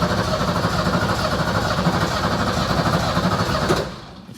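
The starter of a BMW 325e cranks the engine over in a steady, loud, close churning drone that lasts several seconds and then cuts off abruptly near the end.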